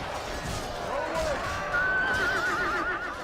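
Horses of Rusici cavalry units neigh in a medieval strategy video game, a loud rising whinny followed by a longer high whinny over a steady battlefield din with faint hoof clatter.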